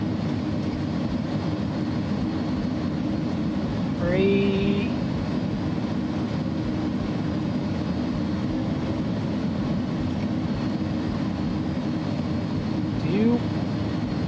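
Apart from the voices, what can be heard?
A300 airplane parking in a flight simulator video game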